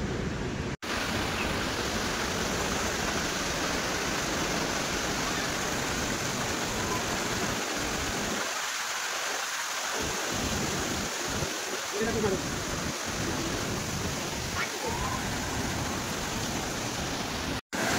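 Sautada waterfall in Beed district, water dropping about 240 feet from the Vincharna river, roars as a steady, loud broadband rush that runs almost unbroken throughout, with brief muffled dips and faint voices underneath.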